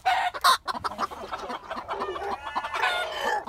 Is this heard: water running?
no